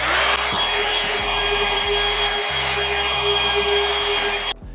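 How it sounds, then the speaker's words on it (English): A handheld router cuts a round-over profile along an MDF panel edge for a built-in wardrobe, a steady loud high whine with rhythmic low bumps as it feeds along, cutting off abruptly at the end. "I'll just hit it with the router, just to give it a little round over detail on the edge also."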